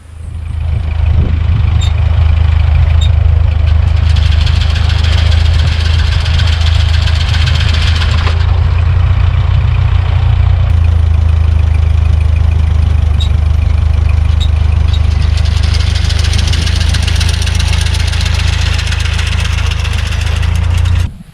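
A John Deere 39 sickle mower runs loud and close, a steady rumbling engine throb with rattling mechanical clatter and a few shifts in tone, with no talking.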